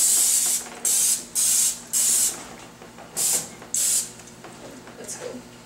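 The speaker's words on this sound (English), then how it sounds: "Make sure you spray the pan with Pam so it doesn't stick." Pam cooking spray hisses onto a pan in six or seven short, loud bursts with brief pauses between them, followed by a softer final spritz over quiet room background.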